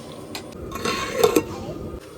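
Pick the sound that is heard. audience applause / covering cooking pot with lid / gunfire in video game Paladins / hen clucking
covering cooking pot with lid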